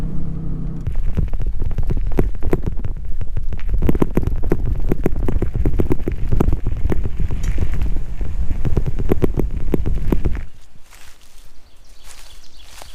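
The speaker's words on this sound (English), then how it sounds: "Man, this wind really picked up after 9 o'clock." Gusty wind roars through the woods during a Pennsylvania spring turkey hunt, a loud, steady broadband rush for about ten seconds that abruptly drops to a quieter, softer breeze near the end.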